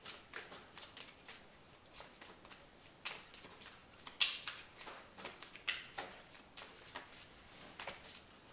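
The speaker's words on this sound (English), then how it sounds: "I'm just going to pull a couple more cards" Tarot cards shuffled by hand, a run of soft riffling flicks and slaps in an irregular rhythm, close and fairly quiet with no talking.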